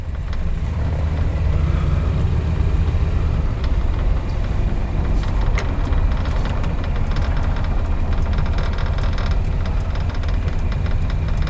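A 1966 Dodge Coronet 440 coupe with a 3-speed automatic runs steadily, its engine giving a low, even idle-like rumble, with faint clicks and road or interior noise layered over it.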